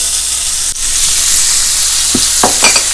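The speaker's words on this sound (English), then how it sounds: "Now I'm going to saute this until it's translucent." One chopped onion sautéing in a tablespoon of salted butter for shrimp Alfredo, a loud, steady close sizzle with a brief pause and a few sharp stirring scrapes near the end.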